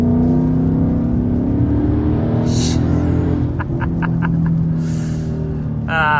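A Ford Mustang with a Corsa exhaust idles with a steady low, even rumble, a couple of brief higher whirs and faint clicks rising over it near the end.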